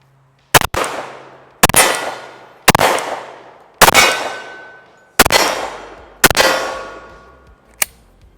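Six loud Glock 36 pistol shots at steel targets 15 to 20 yards away, each sharp crack followed by a ringing metallic clang and decay, spaced about a second apart, then a final fainter clank.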